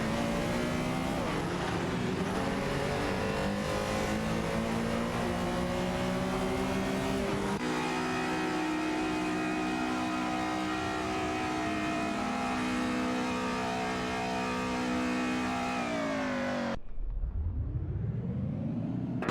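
Porsche 911 Carrera RSR 3.8 and Alfa Romeo 75 race cars in a video game, engines droning steadily and shifting pitch through gear changes, loud and continuous, ending with a sharp rising whoosh as a car sweeps past.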